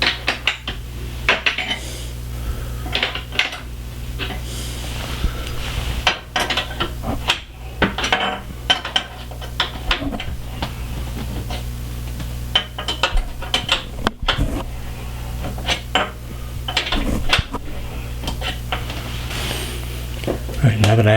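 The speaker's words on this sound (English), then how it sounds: "So I have a 12 millimeter box opening wrench, and we're going to lower them." A 12 mm box-end wrench clinks and scrapes metallically on adjustment nuts of a DeVere darkroom enlarger, with irregular close taps and ratcheting clicks, and a voice talks over much of it.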